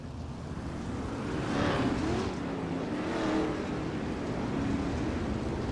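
410 sprint cars roar around a dirt oval at Lernerville, a loud sustained engine drone from the pack with swells as cars pass, steady throughout with no talk.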